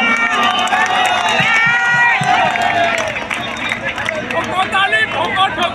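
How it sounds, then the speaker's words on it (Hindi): Applause and cheering from a crowd at a football tournament prize ceremony in Dudhiyashole, 2024, a sustained noisy wash of clapping and shouting with babbling voices throughout. "एक बार जोरदार तालियां।"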